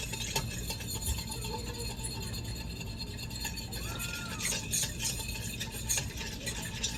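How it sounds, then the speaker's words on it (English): A fork stirs yeast and sugar in a bowl, making soft, continuous scraping and swishing that stays faint against a steady background hum. "I'm just going to use a fork and kind of mix that up a bit so that that yeast can start blooming with the sugar"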